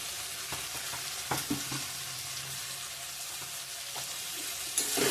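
Chilli, cumin and coriander powders sizzle in a hot pan with occasional scraping and stirring clicks, a soft constant hiss that swells briefly near the end.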